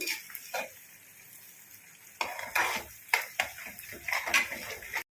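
Curry leaves frying in a pan for homemade chicken pickle, a steady low sizzle with scraping stirs that grow louder and more frequent in the second half, with no talk.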